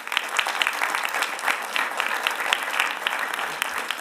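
An audience at a Mecklenburg County State of the County address gives sustained, dense applause, a bright even patter of many hands held at a steady level throughout.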